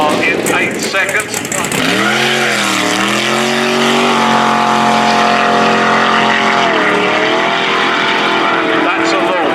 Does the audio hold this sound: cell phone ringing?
no